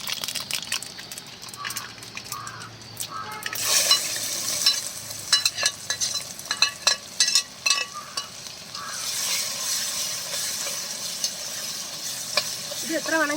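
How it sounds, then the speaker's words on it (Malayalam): Ginger and garlic sauté with popped mustard seeds in a pan for tuna pickle, giving a steady sizzle with bursts of scraping and clattering stirring and a few faint crackles. "ഇത് നന്നായിട്ടൊന്ന് വഴട്ടിയെടുക്കണം."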